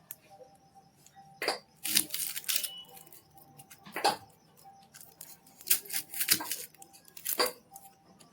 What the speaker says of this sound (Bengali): পেঁয়াজটা কাটবো।